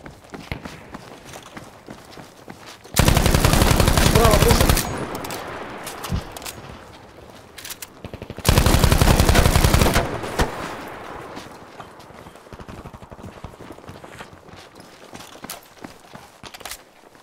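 Gunfire in Battlefield 5 Firestorm, two loud sustained bursts a few seconds apart over quieter footsteps and movement noise.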